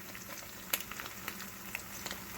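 Hot oil pops and sizzles in a pan under an omelet, making a steady close hiss dotted with sharp crackles and scattered pops, with no talking.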